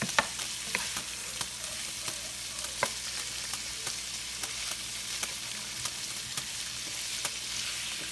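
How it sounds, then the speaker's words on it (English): Smoked sausage and bell peppers searing in a pan, a steady sizzle with occasional crackles and stirring clicks throughout, no voices. "So the smoked sausage is already cooked. I'm just trying to get a little sear on that."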